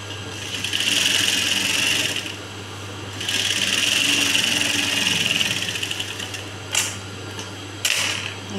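A sewing machine stitches blouse fabric in bursts, running loud and fast for a second or more, then stopping, with two short runs near the end over a low steady motor hum.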